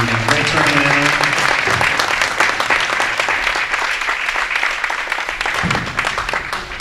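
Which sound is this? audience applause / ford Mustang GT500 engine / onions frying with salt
audience applause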